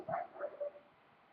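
Dogs bark indoors in a room, a few short muffled yips and barks in quick succession, faint and fading out after a second.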